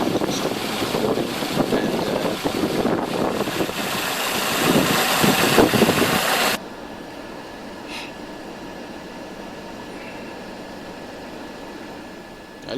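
A 1989 Mercedes 230e engine idles steadily and close by, with a louder raised-revs stretch first, then a quieter, even idle hum that carries on alone.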